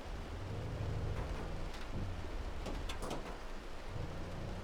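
Thunderstorm with hail in the storm-chasing video game Outbrk: a dense, steady roar of rain and hail hitting surfaces, with low rumbling thunder swelling in and out and occasional sharper impacts, no talking.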